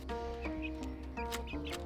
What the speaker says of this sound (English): I first gotta feed the chickens some extra food